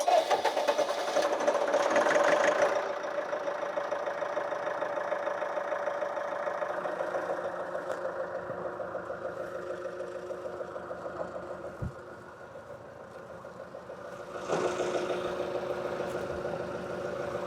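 Brush chipper engine running at idle, a steady mechanical drone with rhythmic chugging, loud and close, with a brief dip partway through before the hum swells again.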